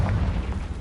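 A Confringo fire spell explodes in Hogwarts Legacy, a single loud, close, booming blast with a dense low rumble that fills the whole brief moment without any talk.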